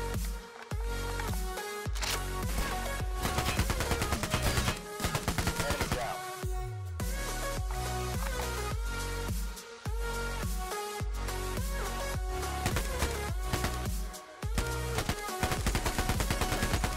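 Rapid bursts of AK-47 automatic rifle fire in a shooter video game, loud and close, with repeated volleys and short pauses between strings of shots over steady game audio.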